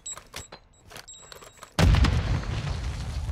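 A bomb goes off in an online shooter video game: a sudden loud, close boom lands after a stretch of quieter clicks and beeps, and a dense rumbling roar fills the rest of the moment.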